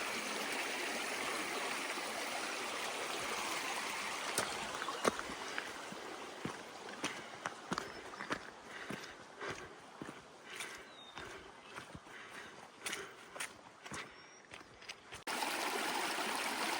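Small creek crossed on a hike through muskeg country north of Seward, a soft continuous trickle of flowing water broken by close footsteps and scrapes on rocks.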